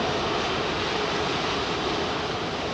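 An Airbus A380 jet departs Heathrow runway 27R with a broad, steady roar of engine noise that fills the whole moment without rising or fading, and no voices.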